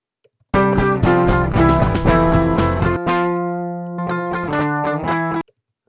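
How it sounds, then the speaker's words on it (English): A heavily distorted electric guitar plays a lead line, sustained notes and quick runs, loud and close, with no voices. "I mean that's a lead guitar then"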